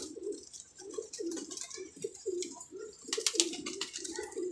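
Pet pigeons at a home pigeon show coo close by in a steady run of soft, rhythmic throaty calls, with light rustling and faint chirps over the top.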